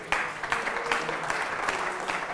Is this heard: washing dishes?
no